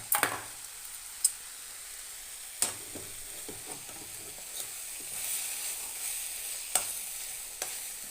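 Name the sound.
dal sambar powder frying in tempering for bitter gourd gojju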